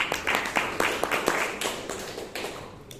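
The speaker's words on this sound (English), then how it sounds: "Let's give Toastmaster Vishwanath a good round of applause." Audience applause after a talk at a Bangalore Toastmasters club meeting, a dense patter of hand claps that starts strong and slowly thins out over three seconds, with no speech over it.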